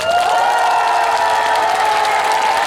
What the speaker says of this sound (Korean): 자 박수 한번 줘보세요